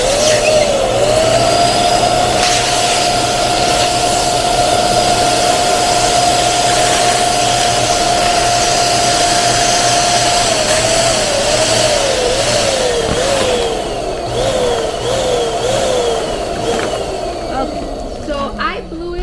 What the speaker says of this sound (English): starting off with your blower and then finishing it with a handheld pump